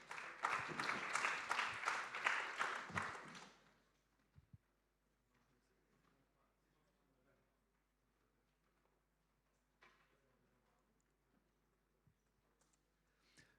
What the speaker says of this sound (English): Big round of applause, everyone, for Hendrik.